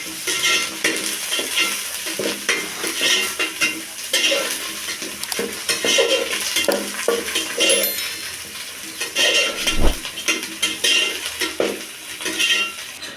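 Chicken curry with coriander and mint frying and being stirred, a continuous close sizzle with busy scraping and metal spoon clatter against the pot, and one sharp heavier knock partway through.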